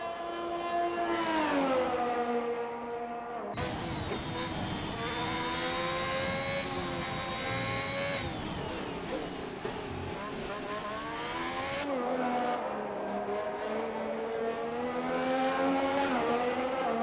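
A video-game Alfa Romeo race car does a fast lap in a simulated Brazil race. The engine screams at high revs without a break, rising and falling through the gears, loud and steady for the whole stretch.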